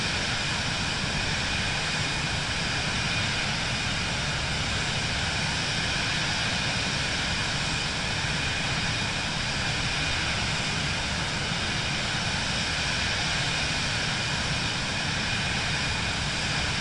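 An airliner cruising in Microsoft Flight Simulator 2024 at about 3,000 feet and 167 knots gives a steady, unbroken broadband engine and air roar that stays even in loudness throughout, with no voices.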